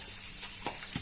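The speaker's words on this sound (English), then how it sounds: "So the garlic is here, frying nicely." Garlic frying in a pan for a cabbage and potato dish, a soft steady sizzle with a couple of faint stirring clicks near the end, quiet and close.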